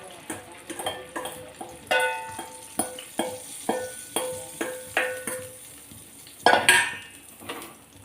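Oil heating in a pan for an egg omelette, soft sizzling under a series of sharp clinks and scrapes of a utensil against the pan, with a louder clatter near the end.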